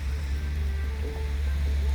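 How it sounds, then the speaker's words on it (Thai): Steady rain falls outdoors at a field in the evening, a continuous close hiss with a low rumble, holding level throughout with no break. "เมื่อนี้ก็บรรยากาศฝนตกเย็นๆครับ"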